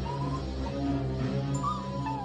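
A dog whimpers and whines in thin, high cries over a low, constant background hum, close by and without anyone speaking.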